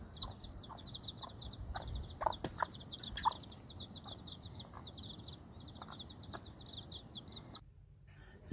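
A crossbred jungle-fowl hen and her chicks in a farm cage: chicks peep in a constant high, rapid chatter while the hen gives occasional soft clucks, fairly faint, until the peeping stops near the end.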